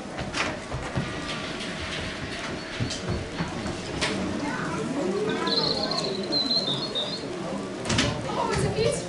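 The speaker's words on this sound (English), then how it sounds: "The birds are singing, the sun is shining." Birdsong and chirping played as a stage sound effect in a community pantomime of Rapunzel, a continuous bright twittering bed heard under background noise and murmuring voices.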